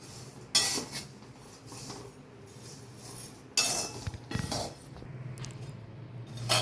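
Peanuts roasting in salt scrape and rattle as they are stirred in a pan, with gritty, clinking bursts coming at uneven intervals over a low background.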